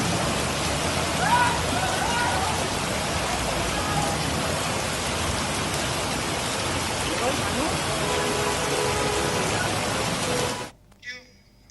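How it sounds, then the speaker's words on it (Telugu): Heavy rain pours down on Hyderabad streets in a dense, steady roar, close and unbroken for about ten seconds before cutting off abruptly. "హైదరాబాద్లో పలు ప్రాంతాల్లో భారీ వర్షం కురుస్తుంది."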